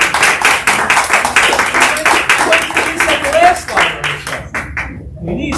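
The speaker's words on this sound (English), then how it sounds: "You can clap." Audience applause after a taiko drum performance, a dense, steady clatter of many hands clapping close by, thinning out toward the end, with voices mixed in.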